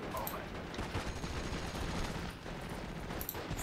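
Dense, continuous gunfire fills a Normandy hedgerow battle in the Steel Division: Normandy 44 strategy game, a steady fusillade of rifle and machine-gun bursts with no pause, faint voices mixed underneath.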